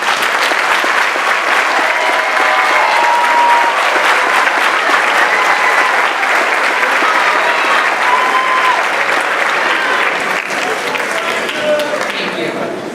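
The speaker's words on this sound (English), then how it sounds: "please stand to be recognized by a round of applause." A high school graduation crowd applauds for students graduating with honors. Dense, continuous clapping fills the whole stretch at a steady loud level, with a few faint voices and cheers mixed in before it tapers slightly at the end.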